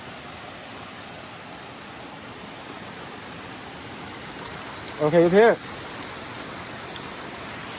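Heavy rain falls in a forest as a steady, dense hiss throughout, and a brief voice speaks once near the end.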